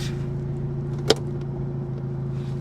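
A BMW X3 idles steadily with a low engine hum while being shifted into gear, a single clunk standing out midway over the constant running drone, close and without speech.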